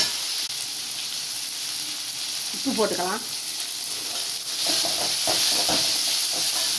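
Tomatoes and salt sautéing in a pan for a potato masala, a steady hiss of frying throughout with brief bursts of stirring scrapes near the middle and toward the end; no talking.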